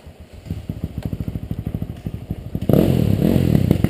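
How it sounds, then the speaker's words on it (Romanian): A motocross motorcycle is pushed downhill to bump-start it. Its engine catches with a rapid, sputtering chain of pops, then settles into a loud, steady running roar close by. "Hai Ilie, dă-i la vale și pornește-l."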